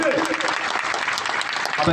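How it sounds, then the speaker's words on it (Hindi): A crowd applauds at an outdoor farmers' movement rally, giving dense, steady clapping throughout while a voice booms over it through a loudspeaker. "सभी के हाथों से तालियां गूंजनी चाहिए।"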